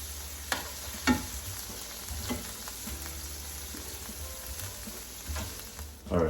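Steak browning in a frying pan for steak pizzaiola gives a steady close sizzle with a few sharp scrapes and clicks, and no talk over it.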